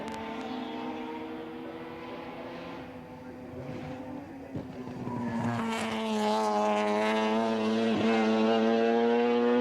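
Touring race car engine revving and pulling away at a green-flag start, rising in pitch and loudness as it accelerates, with the harmonic engine tone climbing and sustaining strongly near and loud.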